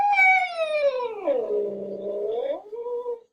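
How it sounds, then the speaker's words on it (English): A cat gives a long harmonic howl that slides down into a low, steady growl and then rises back into a shorter howl, close and loud with no other sounds. "This is a howling sound going into a growling sound,"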